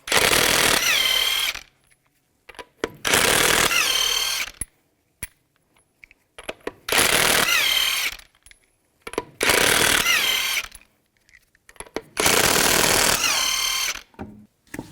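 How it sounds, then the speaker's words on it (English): Lug nuts come off a 2007-2012 Nissan Altima wheel with a 21mm socket, heard as five loud bursts of rapid ratcheting or impact-gun whirring, each lasting one to two seconds, split by short quiet gaps and faint clinks. "use a 21mm socket, take the lug nuts off"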